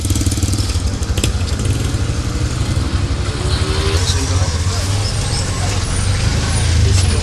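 Motorcycle engines rumble steadily and loudly at a roadside on the way to a market, with other traffic mixed in throughout.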